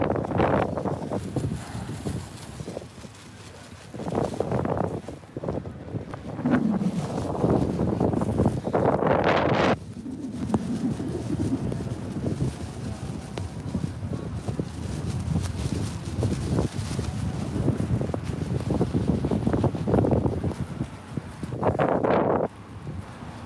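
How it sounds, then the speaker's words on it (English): Strong wind buffets the microphone outdoors in snowy Ottawa near Parliament, a loud rumbling roar that swells and gusts throughout with rustling, no talking. "I'm walking against the snow and wind right now."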